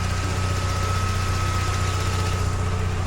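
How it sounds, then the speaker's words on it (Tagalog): A car engine idles steadily after warming up, a smooth, even low hum with a faint tonal whine, continuous and close with no voices. "Ganda ng idle niya guys"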